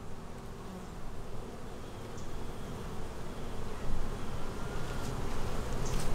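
Honeybees drone steadily around hive comb frames and a drone frame during a hive inspection, a dense continuous buzz close by with no talk over it.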